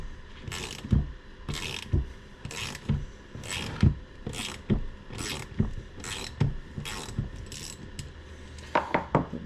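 A tight bolt with thread locker is ratcheted loose from a Ford Model A transmission during disassembly, giving a steady run of close, loud ratchet clicks and grinding strokes with no talk.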